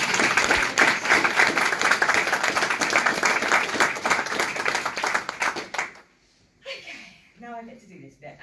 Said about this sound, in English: So can we just give Leah a round of applause?